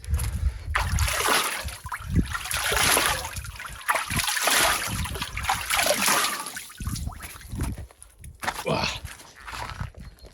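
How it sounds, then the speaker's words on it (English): Cold plunge water splashed onto a face by hand, close-up trickling and splattering bursts repeating irregularly over several seconds, with water dripping back into the tub. "I should splash my face a little bit."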